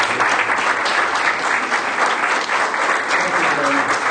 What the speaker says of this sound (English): I would like to have everybody give them a round of applause.